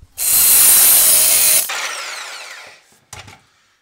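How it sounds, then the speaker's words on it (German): A power saw cuts through the old exhaust of a BMW E12 525, a loud, harsh high-pitched buzz for over a second, then a quieter winding-down whir and a brief clunk. "Deswegen sägen wir das hier jetzt alles ab."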